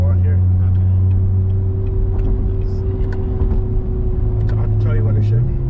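A car fitted with an LT4 flex fuel engine running under load, a steady loud low drone that climbs in pitch near the end, with people talking inside the cabin.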